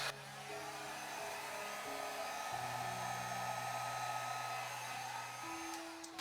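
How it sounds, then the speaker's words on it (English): A blow dryer pushes air over wet acrylic paint during a fluid-art pour, a steady whooshing hum held close for several seconds, with its pitch stepping down slightly as the angle or speed shifts. "you've got to be careful with your blow dryer if you're using it"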